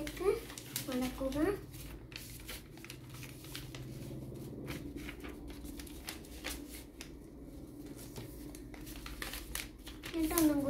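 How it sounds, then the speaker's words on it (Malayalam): Paper being creased and folded by hand to make an origami toy cracker, with soft crinkling and rustling that runs steadily throughout, a little louder at the start and end, under a voice speaking. "എന്നിട്ട് നമ്മൾ ഈ ലൈൻമേലേക്ക് മടക്കുക."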